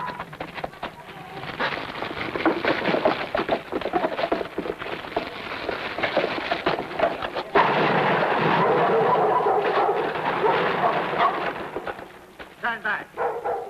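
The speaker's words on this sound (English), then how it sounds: "There might be more explosions." A stored gunpowder explosion in a western film scene erupts midway as a sudden loud, sustained roar, amid a barking dog and shouting voices.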